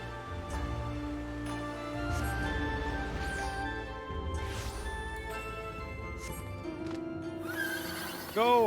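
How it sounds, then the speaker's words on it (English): A horse neighs in Final Fantasy XIV. A rising, wavering whinny bursts out near the end, over steady game music and effects. "Go, horsey!"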